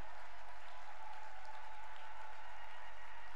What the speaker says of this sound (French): Est-ce qu'on peut acclamer le Seigneur ce matin?